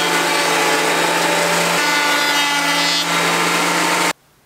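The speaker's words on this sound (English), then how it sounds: "take the thick piece and run it through the thickness planer until I cleaned off the top" A thickness planer runs a reclaimed birch or walnut board with a loud, steady roar and whine that holds for about four seconds, then cuts off abruptly into near silence.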